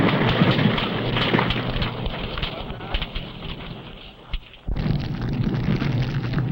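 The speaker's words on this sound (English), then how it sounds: "Sometimes the explosive detonates because of close confinement and intense heat." A conventional explosive detonates under close confinement and intense heat in a 1960 US Air Force nuclear weapon safety test, a loud sustained roaring blast on an old film soundtrack that briefly dips before resuming.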